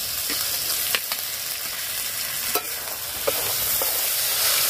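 Mutton liver fries with spices in a pan, giving a continuous close sizzle with a few soft scraping knocks as it is stirred.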